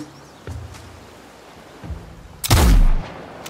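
Rifle gunfire in the Nightingale video game: a couple of faint distant reports, then one loud close boom with a rolling low tail, no talk over it.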